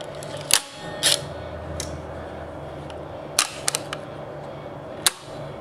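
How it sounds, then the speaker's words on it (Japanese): Close, sharp mechanical clicks of a Sinar shutter mounted in front of a Hypergon 75mm f/48 lens, several isolated snaps spread across a quiet background, each one brief and crisp. "こちらジナーシャッターがついております。"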